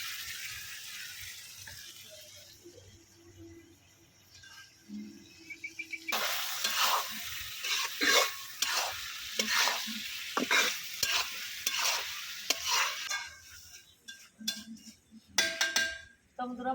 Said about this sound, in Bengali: তো ভালোভাবে কষাইয়া তারপরে মাছগুলো দিব আর কি। তো এখন আমি এই যে মাছগুলো দিয়ে দিব,